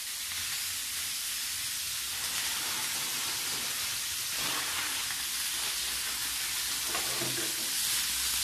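Food frying in a pan over a strong, fierce flame: a continuous hissing sizzle with crackling pops, steady and close throughout, with no talking over it.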